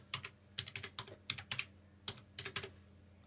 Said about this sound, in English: And then type in Google underwater.